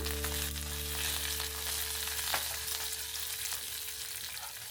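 Cumin, sesame seeds and curry leaves frying in hot oil, a steady close sizzle with a low background hum and a couple of brief crackling pops, no voices.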